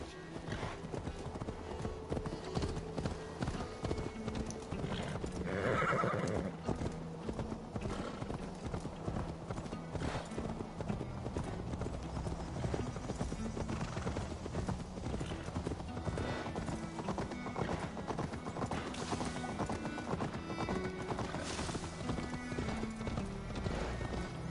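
Horse hooves clip-clop steadily through the Assassin's Creed Valhalla video game, with a horse whinnying partway through, set against game ambience and a voice talking intermittently.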